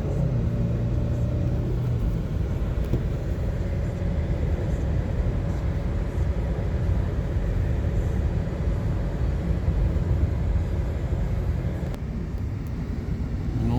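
A car drives along a small-town road in Lockhart, Texas, with a steady, loud engine and road rumble that continues without a break and carries no clear, distinct gear-change cues.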